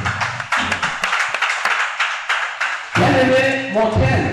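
Congregation at a church seminar clapping and acclaiming in rhythmic bursts, first scattered and steady, then swelling into louder, denser applause with voices joining in near the end.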